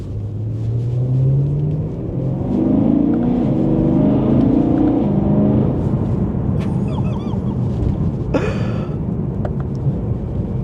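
A BMW E9X M3 with an Eventuri intake revs hard in manual on a road, its deep engine note rising and falling in loud sweeps with sharp, brief pops near the end.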